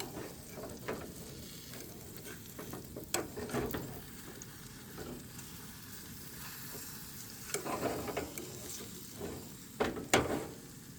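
Scrambled eggs sizzle in a pan still greasy from bacon, with a steady frying hiss broken by scraping and stirring clatter at irregular moments.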